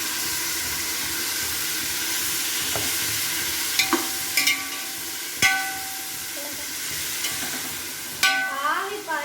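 Dried tomatoes frying in a pan for chicken biryani, a steady loud sizzle and hiss with intermittent scraping clinks of a spoon stirring, close up with no talking.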